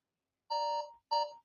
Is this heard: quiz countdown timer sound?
yes